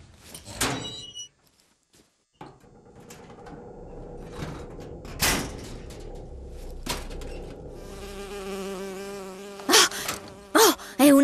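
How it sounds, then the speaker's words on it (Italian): A bee in the video game Bioshock Infinite buzzes in short bursts between sharp thuds and clicks, with a brief silent gap early on and a rising whine near the end. "Un'ape, io li odio davvero."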